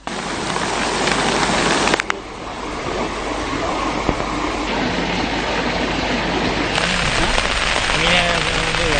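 Heavy, steady downpour hissing over flooded ground, dense and continuous, with a brief louder burst near the start.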